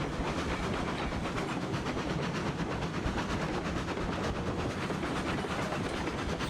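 A small train from the Railroads Online game rolls steadily along its rails, a continuous broadband rumble with faint rhythmic clatter and hiss that holds at an even, fairly loud level throughout, with no voices.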